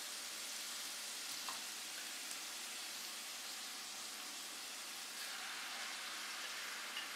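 Minced kofta meat frying with onions in a pan, a steady soft sizzle and crackle running throughout, moderately quiet with no voices.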